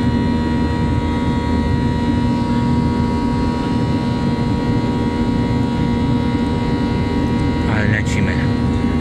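Steady engine drone inside a passenger airplane cabin during a flight to Greece, with a constant hum and a brief voice-like sound near the end.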